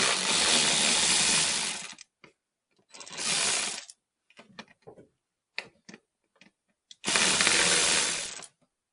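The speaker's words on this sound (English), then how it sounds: "if y'all don't have one of these electric ratchets, they're pretty nice." An electric ratchet drives screws out of the evaporator box on a 1991 Ford Ranger, heard as three sustained whirring bursts of about a second each. Short clicks and taps of handling fall between the bursts, and no one speaks.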